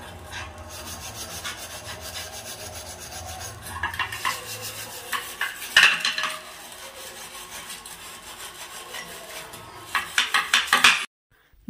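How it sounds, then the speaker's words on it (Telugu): Dishes being scrubbed one at a time at a sink, a continuous close rasping rub broken by clinks of pots and cutlery, with bursts of louder scraping near the middle and end, no voices. "నేనైతే అన్నీ ఒకేసారి తోమేయనండి, ఒకటొకటి ఒకసారి తోముతాను"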